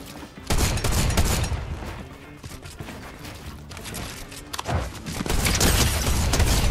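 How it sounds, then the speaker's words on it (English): Rapid bursts of drum gun fire in a Fortnite fight, loud and close, with a dense volley at the start, a lull, and heavy shooting again toward the end. "I guess just jumping in people's faces with the drum gun is currently the meta."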